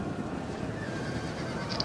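Horses neigh and whinny amid a Rome II battle, a continuous dense din of cavalry and fighting with a brief higher-pitched cry near the end, moderately loud throughout.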